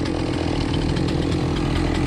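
A chainsaw runs hard and continuously while cutting cherry tree logs, a loud close buzzing roar that holds steady throughout with no voices.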